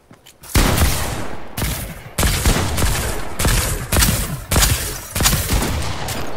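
Fortnite gunfire in a battle royale match: loud, close bursts of rapid shots arrive in repeated clusters, with short pauses between volleys and a booming low end.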